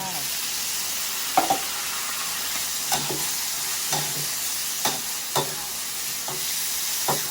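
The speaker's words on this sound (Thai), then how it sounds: "ใส่น้ำลงไป" Stirring in a hot frying pan after water is poured in, with steady sizzling and steam hiss throughout and repeated sharp utensil scrapes roughly every second, close and moderately loud.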